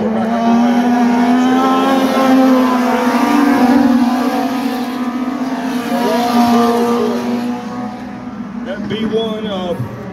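Legend cars race around an oval track, their engines droning loudly and steadily with a sustained pitch as they run down the back straightaway, under continuous race commentary.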